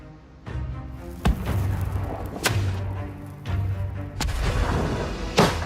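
Replica early handgun like those found on the Mary Rose, fired outdoors: several sharp, loud bangs spaced over a few seconds, each with a short rumbling tail, and no speech.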